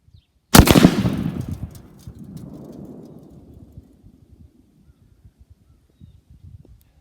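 A single loud rifle shot from a Thompson Center Contender chambered in 7/30 Waters, a sharp crack followed by a rolling echo that fades away over several seconds.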